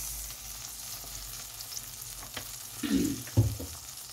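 Gentle frying of star margarine and olive oil in a pan, a soft steady sizzle with a few louder crackles and stirring scrapes near the end, no voices.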